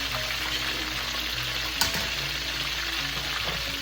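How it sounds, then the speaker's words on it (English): A pork leg sizzles steadily as it fries in hot oil, a constant crackling hiss with occasional pops, close and fairly loud. "Once we're done frying our pork leg"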